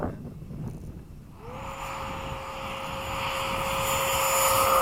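An F-15 jet's engines spool up with a steady, rising whine and a broad roar that builds louder and closer over a few seconds, with no talk.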